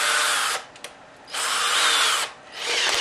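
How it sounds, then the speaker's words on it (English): Three bursts of a power drill with a 3.2mm bit whirring in close succession, each a few moments long, separated by brief pauses. "we need to drill 3 holes"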